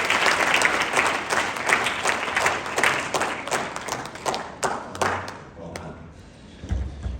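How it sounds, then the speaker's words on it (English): An audience at a practice-management masterclass applauds a presenter: dense, sustained clapping with sharp individual claps standing out, tapering toward the end, with voices mixed in. "Guys, let's give Sam a big round of applause."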